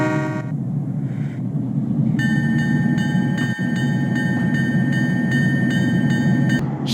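A train engine rolls out of an engine shed with a steady, loud low rumble. A bright tonal hum joins after about two seconds and holds until the end.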